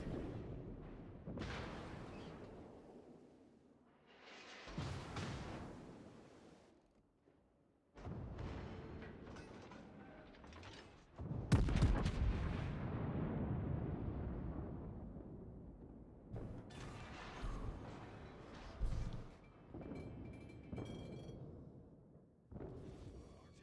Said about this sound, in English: We're just going to trade broadsides with this guy.